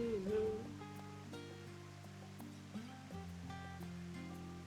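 Rushing water in the Final Fantasy XIV video game, a steady, fairly quiet wash of flowing water heard alone beneath sustained game music tones.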